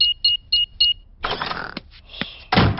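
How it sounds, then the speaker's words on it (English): A house alarm is switched off: four quick, evenly spaced electronic beeps from a keypad, followed by clicks and mechanical clatter nearby. "I'll just switch the alarm off."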